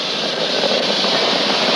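Falcon 9 rocket engines roaring at full power during launch, a dense, steady rushing rumble that fills the short stretch without a break.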